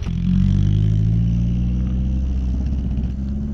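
An old, dusty driving-school car at a drift circuit gives off a steady, loud low engine rumble with a faint clatter, holding constant for the whole stretch with no voices.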